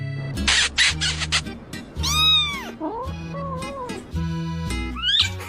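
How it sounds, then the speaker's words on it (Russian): A cat meows repeatedly up close, with loud, drawn-out cries that rise and fall in pitch and leave short gaps between them. Some rustling is audible in the background. "Кошка, кошка. Ты у нас кто кошка?"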